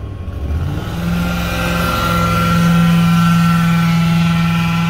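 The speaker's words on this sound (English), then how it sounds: "that's the mosquito truck" A mosquito fogging truck passes by outside, its engine droning as a steady, fairly loud hum that swells and then holds, with no one talking over it.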